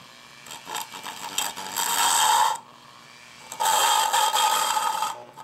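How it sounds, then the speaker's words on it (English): A Dremel rotary tool on its low setting smooths metal in two sustained bursts of whirring grinding, close up, with quieter scraping and handling between them and no talk. "So I take my Dremel tool, just put it on the low setting, and just clean that up a little bit."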